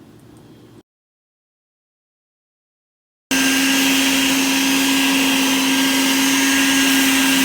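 Shop vacuum sucking sand out of a swimming pool sand filter, a loud steady whine with a strong tonal hum that starts abruptly after a brief silence and runs unbroken to the end.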